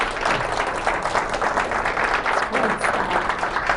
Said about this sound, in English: So can we give Kiera a round of applause?